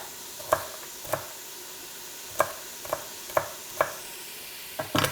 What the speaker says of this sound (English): hearing the onions and carrots and one celery stick sizzling away in there